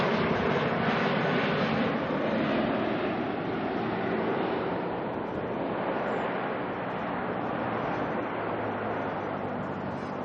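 An Air New Zealand Airbus A321neo arriving from Dunedin at Auckland Airport gives a steady, broad jet roar that holds for the whole stretch and eases only slightly, heard from a distance with a windy rush and no voices.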